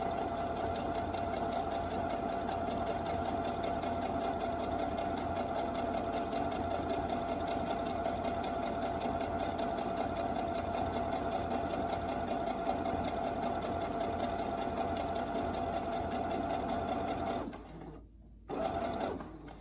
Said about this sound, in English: Now, we're gonna push this down, and we're just gonna sew all the way down.